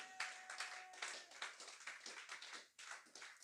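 A church congregation at a prayer vigil claps to acclaim the Lord, with steady, fairly quiet rhythmic applause from many hands that continues throughout, and a faint voice briefly heard under it.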